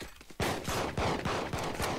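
Rapid bursts of gunfire from a sniper rifle in the tactical shooter game Valorant, a loud sharp volley of close shots in quick succession filling the whole moment.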